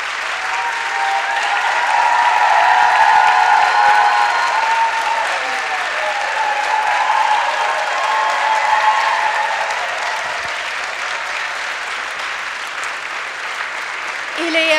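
Concert audience applauding a gospel singer at a live gospel show, a steady, full wash of crowd applause sustained for about fifteen seconds, loud and even, with no talk over it.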